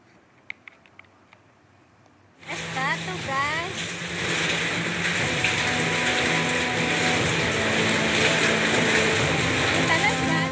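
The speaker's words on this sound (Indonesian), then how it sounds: "butiran es yang jatuh di atap rumah warga mengeluarkan suara keras" Hail driven by strong wind hits house roofs in Sambi, Boyolali, Central Java. After a quiet start it breaks into a loud, continuous clatter and roar, with a voice speaking over part of it.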